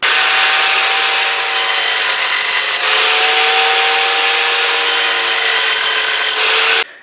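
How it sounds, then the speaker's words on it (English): Angle grinder cutting grooves into a steel Bowie knife blade: a loud, continuous high-pitched whine with shifting tone as it bites the metal, close up, cutting off abruptly at the end. "I'm actually going to take the angle grinder and just enhance it a little bit."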